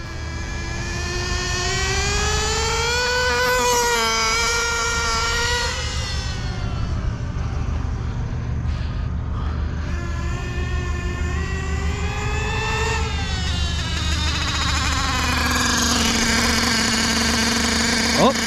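A nitro RC car engine idling high on a beginner tune, a loud sustained buzzing whine that rises and falls in pitch as it revs, running continuously near the microphone.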